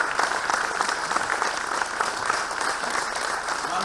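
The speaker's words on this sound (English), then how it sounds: "can I have a round of applause for Tasveer and Mankamal?" Audience at a school groundbreaking ceremony applauding steadily, dense even clapping throughout with no break.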